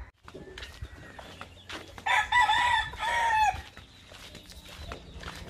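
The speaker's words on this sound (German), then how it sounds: "die haben hier eine ganze Menge Hähne" Roosters crow in a village near a dive resort on Malapascua in the Philippines, one loud nearby cock-a-doodle-doo rising over faint background crowing and clucks.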